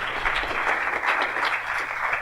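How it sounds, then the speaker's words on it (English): Brief audience applause at a documentary film festival award presentation, a steady dense clatter of many hands clapping, moderately loud and unbroken for about two seconds. "Could you please give him another round of applause here"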